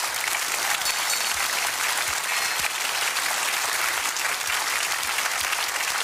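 A studio audience on a German late-night comedy show applauds steadily throughout, a dense, even wash of clapping hands at close range without pause or speech.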